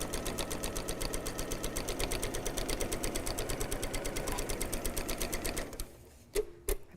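A sewing machine runs a steady straight stitch along a fabric napkin's binding, its needle clattering in a fast even rhythm for about six seconds before stopping, followed by a couple of short clicks.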